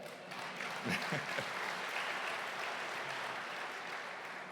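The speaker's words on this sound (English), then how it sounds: "yeah, you could clap to that" Civic state-of-the-city audience clapping at a fairly quiet level, a soft continuous patter of many hands in a large room with a few louder close claps near the start.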